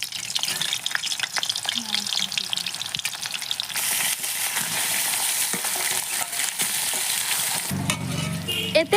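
Cauliflower florets hit hot refined oil in a pan, starting a loud, steady sizzle that swells and holds with occasional stirring scrapes, with no talk over it.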